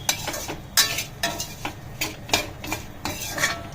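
Masala is stirred and roasted in a pan, a spoon scraping and clinking against the metal in repeated rhythmic strokes over a soft sizzle, close and alone.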